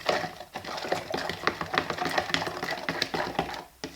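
A wooden spoon stirs yeasted dough for stottie cake in a bowl, making a steady run of soft wooden knocks and sticky scraping strokes, close and continuous for several seconds with no talking.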